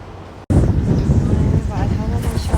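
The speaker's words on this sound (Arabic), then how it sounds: "بدي أصور الجو بس دا أخاف من الهواء" Strong wind buffets the microphone outdoors near a shelter, loud low rumbling gusts that start suddenly after a brief quiet moment, with a person speaking over the noise.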